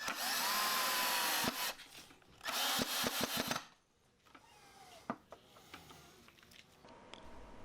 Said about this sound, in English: Next, I located and drilled the 4 mounting screw holes.